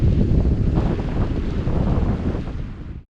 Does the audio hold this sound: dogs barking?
no